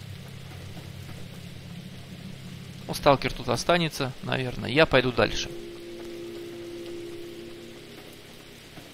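Rain falling in the game Stalker Online, a soft steady hiss of rainfall carrying on throughout while someone talks briefly over it in the middle.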